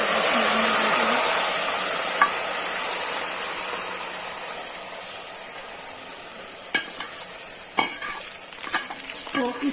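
Browned onion tempering poured into beef nihari, a loud close steady sizzle and hiss that slowly fades, followed by a few sharp clinks of a spoon against the pot near the end, with no talking.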